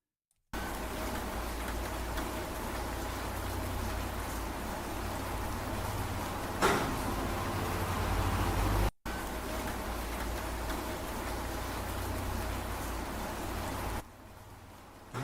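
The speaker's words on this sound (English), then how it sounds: "A little bit of rain." Steady rain patters and hisses across the whole stretch, with a brief louder splash partway through and a short gap before it resumes.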